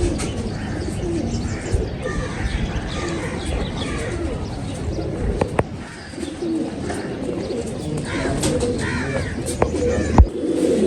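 Racing pigeons from a Lahore loft cooing in a continuous, close chorus of low murmuring coos, with occasional chirps and a few sharp knocks or flaps.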